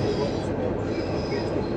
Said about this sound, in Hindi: इस वक्त टनल से गुजर रही है हमारी ट्रेन